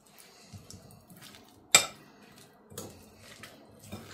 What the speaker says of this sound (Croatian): Sad ćemo sve ovo lepo da promešamo i da sjedinimo.